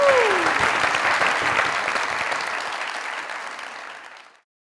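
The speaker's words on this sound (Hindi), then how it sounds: "जोरदार तालियां।" A studio audience at a comedy talk show breaks into loud sustained clapping that starts strong, holds for several seconds, then fades out abruptly, with a brief whistle or cheer at the start.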